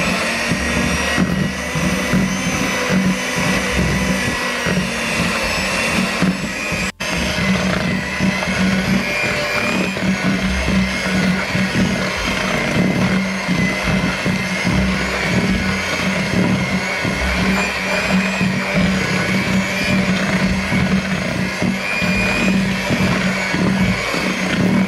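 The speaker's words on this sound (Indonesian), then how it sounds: "Lalu saya masukkan campuran terigu dan susunya sebanyak setengahnya. Saya akan mixer sampai dia" An electric mixer blends flour and milk into red velvet nastar cookie dough, giving a steady, loud motor whir that runs throughout with one brief break early on.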